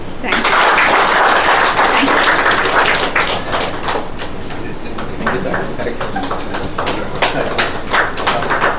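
An audience claps steadily throughout at a Telugu science talk, a dense continuous patter that stays loud at first and eases slightly while claps continue to the end.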